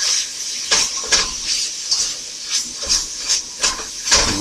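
Minced garlic sizzles in a hot pan with a bright steady hiss, and about ten rhythmic bursts swell and fade as it is stirred around.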